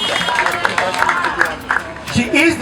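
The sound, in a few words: audience applause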